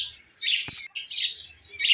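Sparrows and other small birds chirp at a water dish in three bright bursts of close, high tweeting, with a brief click between the first two.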